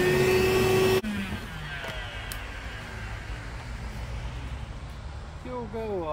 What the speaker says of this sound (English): But luckily, I can vacuum all that out.